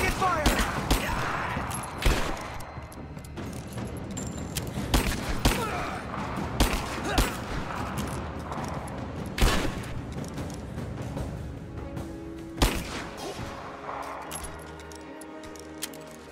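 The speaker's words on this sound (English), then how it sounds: "I'm taking fire!" Gunfire bursts from the Rise of the Tomb Raider video game, with several sharp shots standing out over constant battle noise and game voices talking.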